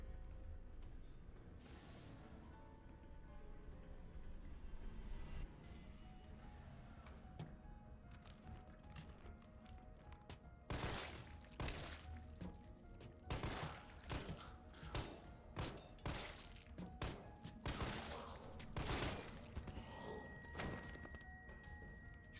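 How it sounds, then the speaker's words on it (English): Gunshots from a firearm in Resident Evil 3 pop in a quick run of sharp, fairly quiet reports aimed at a zombie, about a dozen in irregular rhythm after a stretch of low mechanical game ambience. "He says after he takes 27 shots at one more shitty zombie"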